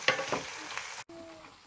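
Pork fat sizzling as it renders into lard in a pot on the stove, with a steady close crackle and a few stirring scrapes, then a brief dropout before the quieter sizzle resumes.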